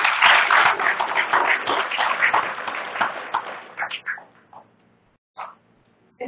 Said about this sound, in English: Can we give a round of applause to our 3 presenters?